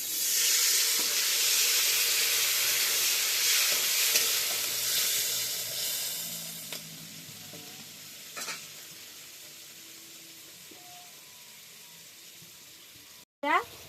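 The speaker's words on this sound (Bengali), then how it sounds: "ভাজা ভাজা হয়ে গেছে আলুটা, একটু হালকা লাল করে নিয়েছি। এবার সামান্য আমি একটু জল দিয়ে দেবো।" Sliced potatoes frying in hot oil after browning lightly, a loud steady sizzle that hisses up as water is added, then gradually quiets, with a few utensil clinks and a sharp clatter near the end.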